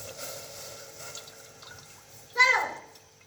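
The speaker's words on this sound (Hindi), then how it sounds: "तो अब हम दूध शामिल कर देंगे।" Milk splashes briefly into hot brewed kahwa while making Kashmiri chai, a single short pour rising late in the moment after a stretch of quiet kitchen noise and soft talk.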